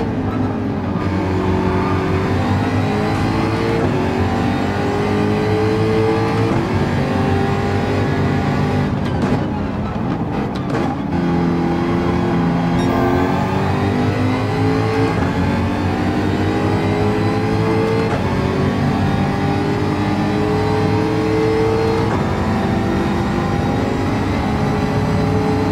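Race car engine droning and revving in Gran Turismo 7 while running side by side with another car, a loud sustained whine with rising and falling pitch through gear changes and a brief dip midway.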